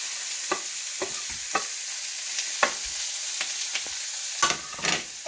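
Beef and browned onions sizzle steadily in a hot pan, with repeated scraping and stirring strokes breaking through the constant crackle.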